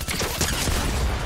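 A short, dense burst of rapid gunfire from a Fortnite match, loud and close, with shots blurring into a continuous rattle.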